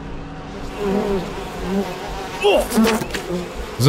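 Bees swarm around a bee tree in the video game We Happy Few with a steady, close droning buzz throughout, while someone says a word briefly.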